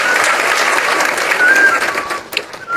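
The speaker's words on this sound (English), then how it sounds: "Please give yourself a resounding round of applause." Graduates at a university convocation applaud themselves, a loud, dense burst of clapping from a large crowd that carries on throughout with a few whistles or cheers on top.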